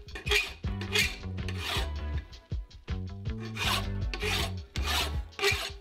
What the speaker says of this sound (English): Don't underestimate your good old trusty files, because they cut metal.